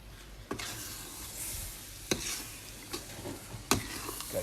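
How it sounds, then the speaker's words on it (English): A spoon stirs coconut milk in a pot, sounding faint and close, with three sharp scraping knocks against the pot over a low bubbling simmer. "Gotta keep stirring it."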